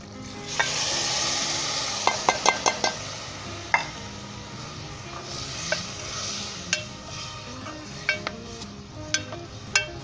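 Steady sizzling as chickpeas are stirred into a hot pot for Punjabi-style chicken chhole, with a spoon scraping and clinking against the metal again and again.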